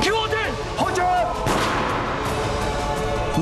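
Gunfire in a TVB period drama trailer set in old Shanghai, heavy booming shots and bursts over a dense cinematic mix, with voices and other effects around them.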